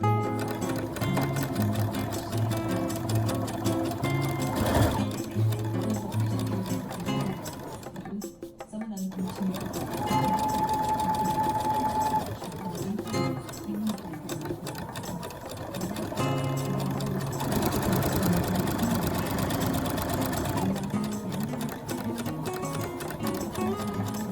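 A sewing machine stitches together the bottom of a homemade reusable fabric face mask, a continuous close motor hum with rapid needle clatter, one short pause midway, then steady sewing again.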